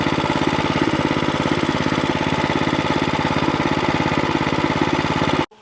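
Coleman B200 mini bike engine running with a bad vibration, a close, steady mid-pitched putter with a rapid even pulse and a harsh shaking edge, cutting off abruptly at the end.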